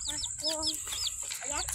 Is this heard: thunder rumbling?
no